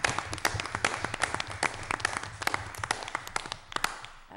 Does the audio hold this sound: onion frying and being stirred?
no